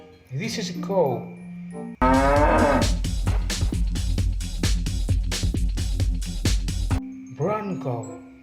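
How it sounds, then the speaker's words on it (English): A cow moos loudly and at length, one long drawn call with dense rhythmic harmonics, bracketed by shorter animal-like cries from a toy or recording before and after; a person speaks excitedly around it. "This is a cow."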